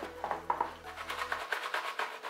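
Golden, crispy roast potatoes shifted about in a hot roasting tray, giving a run of light, close crackling scrapes and soft sizzle, fairly quiet and with no talking.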